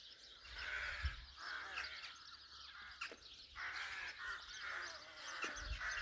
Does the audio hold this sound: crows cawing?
yes